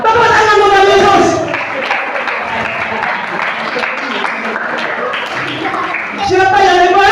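Children and congregation at a Sunday school Christmas church service clapping together: a burst of dense, lively applause lasting several seconds, framed by a loud speaking voice before and after.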